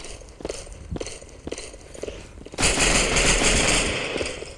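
Rapid automatic gunfire from the video game Counter Attack, a few short bursts at first and then a sustained loud volley with no talk.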